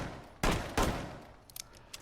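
Two loud, close gunshots fired into a desk in Rainbow Six Siege, spaced about a third of a second apart and each trailing off, followed by faint clicks and small impact ticks.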